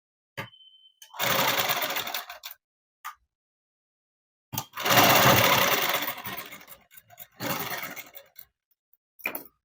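A sewing machine stitching a dress made from an old saree whirs in three loud, close bursts of steady stitching separated by short pauses and brief mechanical clunks.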